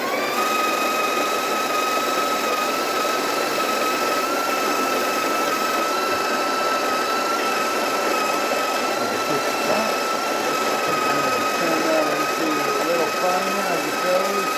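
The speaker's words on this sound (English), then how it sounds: "As it goes while it's grinding." A repaired Breville coffee grinder grinds beans with a steady, loud, high-pitched motor whine and gritty grinding texture running continuously, heard close up while someone speaks over it.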